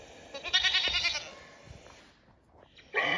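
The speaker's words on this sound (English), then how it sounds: "Domestic goat." A domestic goat bleats in a long wavering, quivering cry, then falls quiet before a second loud bleat starts at the end, close and distinct.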